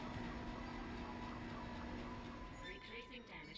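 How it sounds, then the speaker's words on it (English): Dead Space game tram car pulling in, a steady low rumbling rail hum with a tonal drone, shifting to clanks and metallic rattles near the end as it arrives. "Replacing damaged tram car."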